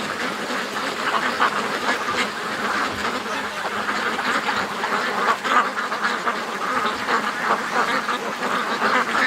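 Ducks at a lake quack continuously, a busy overlapping chorus of calls at close to moderate range with steady water-side ambience and no talk.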